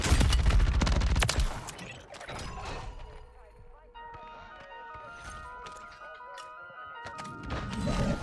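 SMG gunfire in Call of Duty on Rebirth Island, a loud rapid burst of shots at the start, then scattered mechanical clatter and sporadic cracks with a voice talking.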